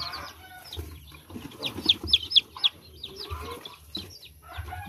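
Chicks peep in a rapid high chatter alongside adult chickens clucking in a pen, with some wing flapping and shuffling, close and moderately loud, no voices.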